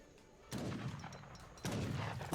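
Musket volleys in an Age of Empires III: Definitive Edition match, two loud crackling bursts of massed gunfire, each about a second long, rising over quieter game ambience.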